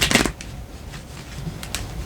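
A deck of cards is shuffled close by in one quick riffling burst at the start, followed by a few faint papery flicks and taps in an otherwise quiet room.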